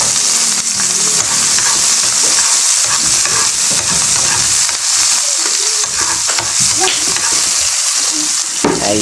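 Onion and tomato frying in hot oil in a pan, a loud, steady sizzle with stirring scrapes throughout and no voices.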